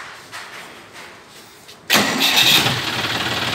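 A John Deere 5039 D tractor's diesel engine cranks and catches with a sudden loud burst after a quiet stretch, then settles into a close, steady, throbbing idle.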